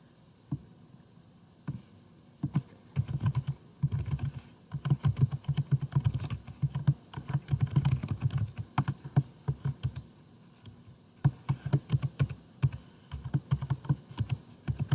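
A computer keyboard being typed on while entering an email address and password, with close, clear clicking keystrokes in irregular bursts and short pauses, no talking.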